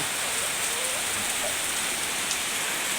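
Steady heavy rain pours down without a break, a dense hiss of drops striking surfaces, loud and close throughout.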